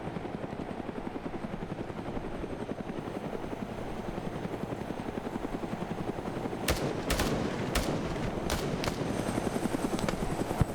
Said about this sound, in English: Now you got this helicopter.